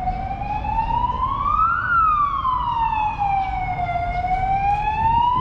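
An ambulance siren wails as it passes along a street in Cairns, Australia, loud and close, its tone sweeping up and down in a steady cycle over faint road traffic.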